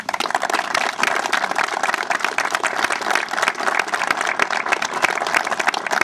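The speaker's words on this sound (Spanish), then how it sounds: "Nicolás, y también un canchero como Gastón, para los cuales pido un aplauso." Audience applause at the inauguration of a fourth tennis court at a club, a dense, steady round of clapping that carries on evenly with no voices over it.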